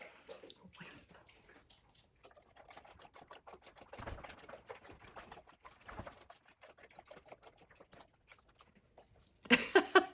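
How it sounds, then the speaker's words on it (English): A dog laps water indoors during a cold winter spell, making a quick run of soft, rhythmic wet clicks and slurps close by with short pauses. A brief louder clatter comes at the very end. "There's a dog drinking water"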